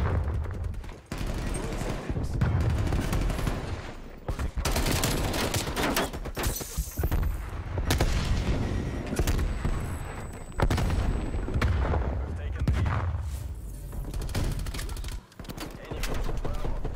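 Gunfire in Call of Duty Black Ops Cold War: rapid bursts and sustained automatic fire with booms and impacts, loud and dense throughout, with occasional brief gaps.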